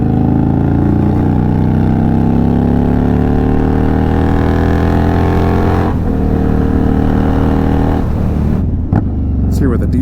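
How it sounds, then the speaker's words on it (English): Loud Indian Scout Bobber motorcycle exhaust revving up steadily in pitch after a downshift, pulling hard through the gears with a continuous roar and a short break near the end. "Let's downshift and get on it a bit."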